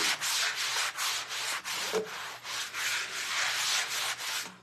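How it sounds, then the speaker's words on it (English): Sanding block rubbed gently over a wooden board with no pressure, making soft repeated scratchy strokes in a steady back-and-forth rhythm, close and alone. "there's no pressure being added to the sanding block"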